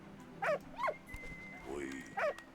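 A dog in the video game Valiant Hearts whimpers in three short, rising-falling whines spaced across the moment, fairly close and clear over a quiet game background.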